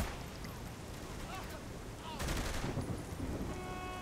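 Gunfire from a weapon in a video game, with a sharp volley bursting out partway through over a continuous noisy game backdrop, with voices mixed in.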